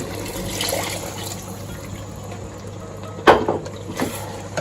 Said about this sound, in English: We're going to add this much water in.